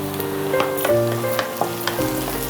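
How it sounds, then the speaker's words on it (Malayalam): Chopped garlic and green chillies fry in hot oil, a close, loud crackling sizzle with quick spatula scrapes and taps scattered through, over a faint steady tonal hum. "വെളുത്തുള്ളി ഇതിനകത്തേക്ക് ഇട്ടു, എണ്ണയിൽ കിടന്ന് വാടി തുടങ്ങി."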